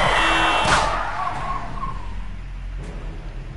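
In the video game 428: Shibuya Scramble, a car rushes close past with a brief tire skid, then the traffic noise settles into a low, continuous rumble.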